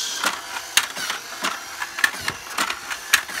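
Tomica Thrilling Mountain toy track running with its motor switched on, giving a whirring mechanical rattle with regular clicking ticks at close range.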